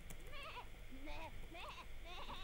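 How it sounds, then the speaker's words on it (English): A goat bleats repeatedly in short wavering cries, close and clear against a low background rumble. "Wow, that goat is right."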